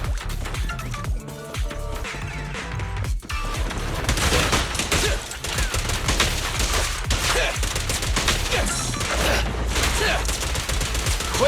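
Gunfire in the video game Zenless Zone Zero: sustained rapid bursts of shots and impacts over busy game music and effects, dense and loud throughout.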